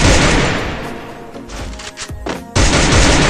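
Gunfire from the Free Fire mobile game comes in loud, fast bursts of shots, with a short break before another dense burst at the end.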